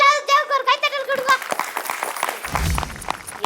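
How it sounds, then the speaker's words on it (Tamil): Studio audience applause on a children's TV game show, a burst of clapping rising after a voice and sustained through the rest, with a low thump near the end. "எல்லாரும் தேவுக்கு ஒரு கைத்தட்டல் கொடுங்க"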